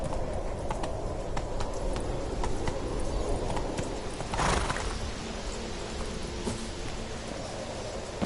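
Hooves of the horse Roach clop in a rapid galloping rhythm in The Witcher 3 video game, moderately loud over a steady wash of ambient noise.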